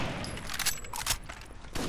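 Video game gunfire in Rainbow Six: Vegas 2 comes as a quick burst of several sharp shots over a dense, noisy background, with no speech.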